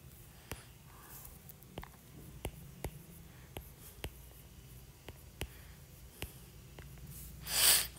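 Pen or pencil writing names onto a paper school worksheet, heard as faint scratching with sparse soft taps spread across the stretch, ending in a brief breathy rush, all quiet and close.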